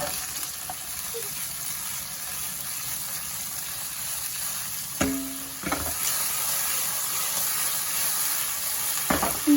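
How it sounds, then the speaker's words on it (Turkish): Chopped peppers sizzle steadily in hot sunflower oil, with a couple of clinks and scrapes from a utensil partway through. "ısıttığım yarım çay bardağı kadar sıvı yağda çiçek yağında önce doğradığım biberleri kavurarak başlıyorum"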